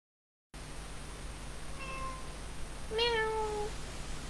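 A cat meows twice, the first short and soft, the second longer and louder, over a steady background hiss.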